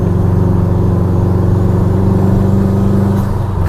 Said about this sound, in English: You can hear that turbo noise so much.